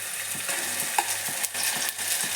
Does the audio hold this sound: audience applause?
no